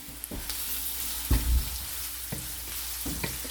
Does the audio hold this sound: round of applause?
no